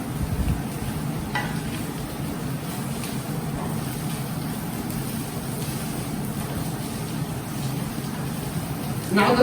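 Sesame potatoes being stirred in a pan over a low flame, a steady soft scraping and sizzling texture running continuously with no one speaking.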